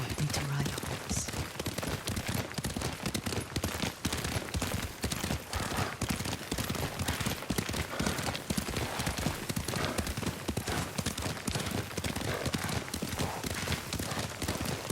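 A horse is ridden at a steady pace in the samurai game Ghost of Tsushima, with hoofbeats clip-clopping continuously and close by while characters speak over the galloping.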